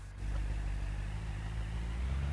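Car engine in the BeamNG.drive driving game held at a steady, loud low drone while a drift is started, the rumble sustained and even throughout with no voices.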